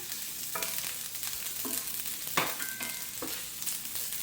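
Chopped onion and garlic sizzle in hot oil in a pan, a steady close crackle broken by several sharp stirring scrapes and clinks.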